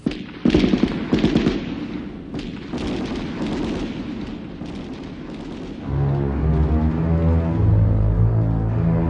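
Rapid bursts of automatic gunfire crackle loudly for a few seconds, then fade into steady shots before dramatic music swells in.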